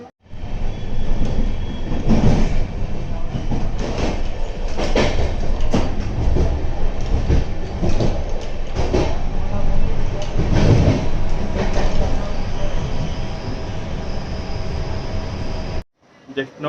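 Train 18551 Kirandul Express pulling out of Simhachalam junction, a steady loud rumble of rolling coaches with rhythmic clacks and brief squeals throughout, a voice occasionally talking over it, ending abruptly.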